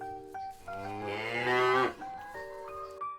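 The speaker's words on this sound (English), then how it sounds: "Yes, it's the cow." A single long cow moo, a deep lowing call that rises and swells before fading, heard close and alone with no talk.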